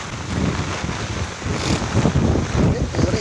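Storm wind gusts roar over floodwater, a steady, loud, broadband rush with buffeting on the microphone throughout.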